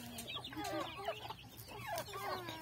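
A small flock of backyard chickens clucking, repeated close, uneven clucks and soft squawks in a quiet outdoor setting with no one talking.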